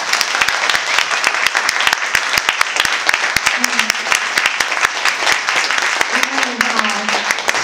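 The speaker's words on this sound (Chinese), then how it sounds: "请再给他们一次热烈的掌声" Audience applause after a concert encore, dense steady clapping from a crowd filling the room throughout, with a voice briefly heard over it.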